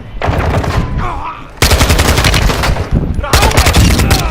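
Loud, close bursts of automatic gunfire in a shooter video game, sustained rattling volleys with a brief break before another long burst, and the player's voice faintly mixed underneath.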